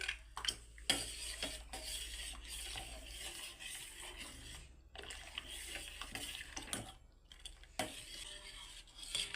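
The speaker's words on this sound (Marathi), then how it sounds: "ज्यावेळेस आपण याच्यामध्ये वाटलेले तांदूळ टाकतो ना त्यावेळेस हे पटपट हलवून घ्यायचं" Ground rice is stirred quickly into boiling milk for kheer, with scraping and clinking of a spoon against the pot in uneven bursts and short pauses, close and moderately quiet, with no talking.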